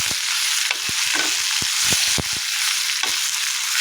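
Herbs sautéing in sesame oil in a pan for a South Indian thuvaiyal, with a steady bright sizzle broken by repeated scraping stirs of a spatula, close and alone.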